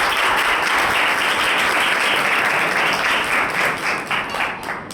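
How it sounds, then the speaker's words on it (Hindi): A church congregation breaks into loud, sustained applause, a dense wash of many hands clapping at close range that holds steady and only begins to thin out near the end. "यीशु के लिए तो जोरदार तालियां"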